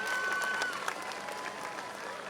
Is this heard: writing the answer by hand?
no